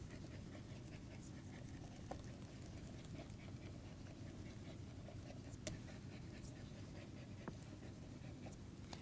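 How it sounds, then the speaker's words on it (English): Pen writing by hand on a surface, a soft continuous scratching at low level with a few faint taps, steady and close, no talking. "Let me write it again."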